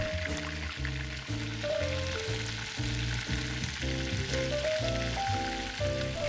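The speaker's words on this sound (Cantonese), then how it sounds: "炸到2-3分鐘，反另外一面。" Malaysian-style pandan-leaf chicken pieces fry in hot oil with a steady soft sizzle throughout, mixed under a melodic music track, with no speech.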